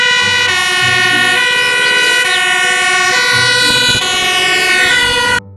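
A toy ladder fire truck's siren wails, loud and close, rising and falling steadily with a harmonic, electronic tone before cutting off abruptly at the end.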